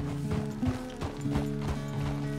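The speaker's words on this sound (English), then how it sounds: "The horse can feel your fear" Red Dead Redemption 2 horse hooves clip-clop at an easy walking rhythm, close and clear over a steady background of ambient game sound, with no voices heard.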